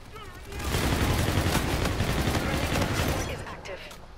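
Rapid automatic fire from a MacTav-45 in a video game, a dense, sustained burst of shots that swells after half a second and runs for about three seconds before tapering off, with a voice talking over it.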